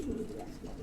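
Pigeons coo in a single soft, low, continuous murmur, up close and quiet.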